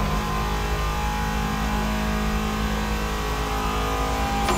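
A car engine in The Crew Motorfest racing game revs steadily as the car picks up speed, a continuous mid-pitched drone with a slowly rising tone and no talking.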